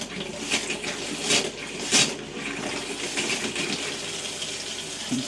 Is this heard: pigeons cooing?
no